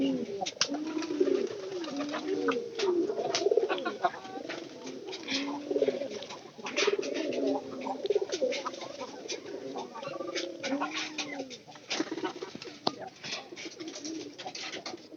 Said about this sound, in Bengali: যেগুলা কবুতর আমি লালন পালন করি আসলে সবগুলা কবুতরই ভালো